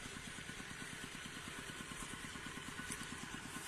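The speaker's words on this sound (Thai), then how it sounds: "ตั้งเครื่องสูบน้ำไว้นะคะ" A small engine-driven water pump set beside a natural garden canal runs at a steady idle, its low chugging pulses even and continuous throughout, fairly close and with no voices.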